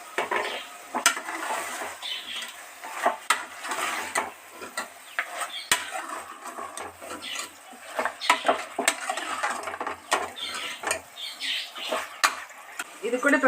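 Mutton gravy is stirred in a cooking pot, the spoon clinking and scraping against the metal in an irregular rhythm, with a light sizzle beneath the close, busy strokes.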